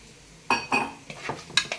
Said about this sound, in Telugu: ఇందులో కొన్ని నీళ్ళు పోసుకోవచ్చు